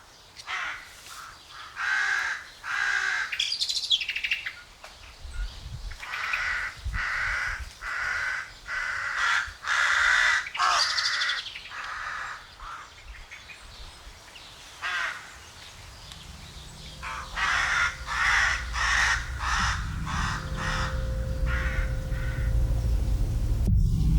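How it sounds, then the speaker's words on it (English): Danish crows caw repeatedly in rhythmic bursts in a patch of forest, fairly close, with a low rumbling hum rising underneath toward the end. "this recording that I made recently of some Danish crows squawking at me"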